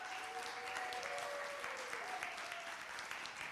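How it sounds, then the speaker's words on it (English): A church congregation applauds Reverend Juan after his sermon at a Sunday service, a steady, moderate round of clapping throughout with faint background voices. "Please give Reverend Juan another round of applause."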